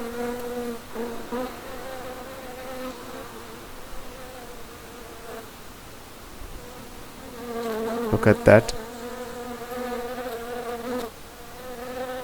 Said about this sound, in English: look at that honeybee, how they are very active, how their movements of very active conditions